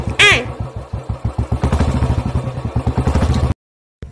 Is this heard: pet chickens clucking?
no